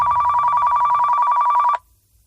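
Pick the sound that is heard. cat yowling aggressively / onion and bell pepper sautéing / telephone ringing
telephone ringing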